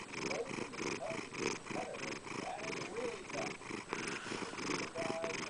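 A domestic cat purring close up, a steady, continuous rumbling throb that pulses rhythmically throughout, fairly quiet and unbroken, with no talking over it.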